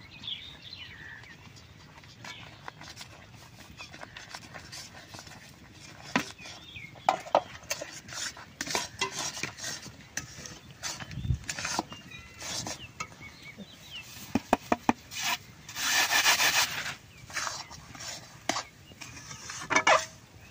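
Semolina being stirred by hand into ripe jackfruit juice for laru, with soft scraping and clinking of utensils against a pot, intermittent and close, no speech over it.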